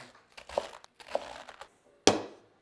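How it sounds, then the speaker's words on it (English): A knife cuts through cored quarters of cabbage into 2-inch strips, producing a few crisp crunching chops spaced apart and ending with one loud, sharp cut near the end. "So we're going to cut the cabbage lengthwise through the stem in quarters"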